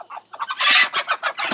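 A chicken woken in the dark clucks and squawks in a rapid run of agitated calls, close and fairly loud, with no talking.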